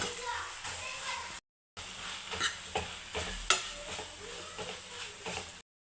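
Coconut, mint and coriander are stirred in a pan, giving close scraping and rustling with a light sizzle and a few sharper taps of the spoon, broken by a brief silent gap.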